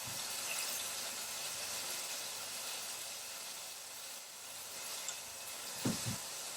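A chicken thigh browns in a hot pan, giving a steady quiet sizzle and hiss throughout, with a couple of brief soft knocks near the end.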